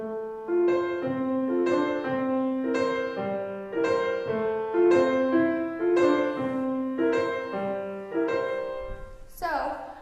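Piano plays a flowing passage in 6/8 time, with the weaker beats 3 and 6 overemphasized as accented, ringing chords, and a bright flourish at the end.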